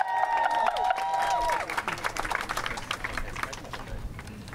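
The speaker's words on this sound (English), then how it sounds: "Everybody, clap your hands" A crowd at an outdoor protest about events in Tigray claps in a dense, uneven patter. Voices and a brief tonal sound come just before the clapping builds.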